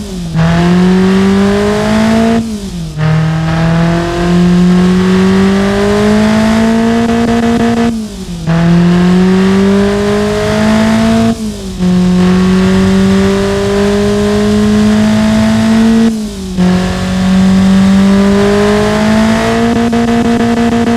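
A tuned Ford Transit 2.0L engine with an aggressive camshaft, simulated in the game Automation, revs hard in repeated sweeps that climb in pitch, each one broken by a brief drop between pulls, loud and close with no talking.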